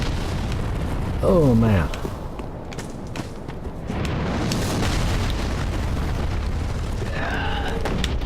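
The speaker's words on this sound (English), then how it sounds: "I want to know who's firing ballista shots." Ballista shots from the Dark Souls 3 video game explode with a loud, close boom that rolls out into a rumbling tail, followed by a quieter stretch and a brief spoken remark.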